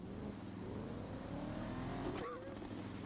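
A llama bike in a video game gives off a steady, buzzy engine-like whine that rises and falls in pitch, continuous throughout, with people talking over it.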